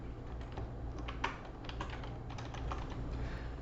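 Fingers tap a computer keyboard while a wallet name is entered, a quick run of soft, close key clicks over faint background hum.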